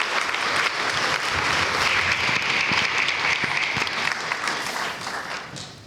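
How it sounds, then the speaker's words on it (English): A community discussion audience applauds steadily for several seconds, a dense sustained clapping that fills the room and tapers slightly at the end, with no talking over it. "Let's give a round of applause to Narissa."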